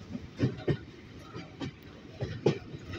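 The Pir Piai special train rolls along rails in hilly country in Pakistan near Attock, with periodic clacks and thumps from the wheels over rail joints under a low, steady rumble.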